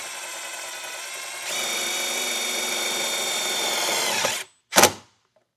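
Power drill driving a self-tapping ground screw into a vehicle's metal body, whirring steadily, then rising in pitch and load for several seconds before stopping, followed by one short sharp burst.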